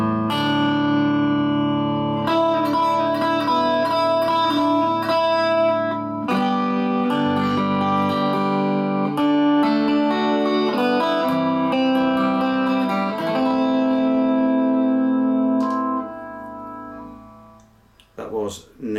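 Chords ring out on a chiming 12-string electric guitar, drenched in spacious reverb, before the playing stops and a last strum fades away.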